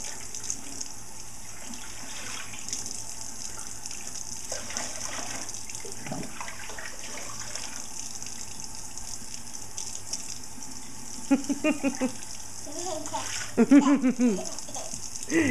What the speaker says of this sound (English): give her a stream of water to grab with the cup